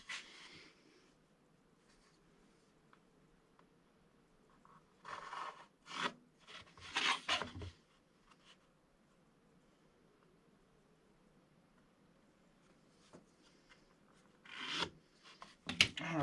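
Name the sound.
sander tapering down a lightsaber mount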